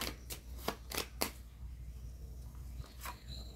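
Tarot cards being shuffled in quick riffling bursts, several crisp flurries close by at first, then a pause and one more short burst, with no voice over them.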